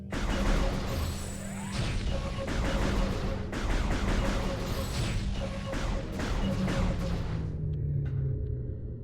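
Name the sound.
gunfire from a video game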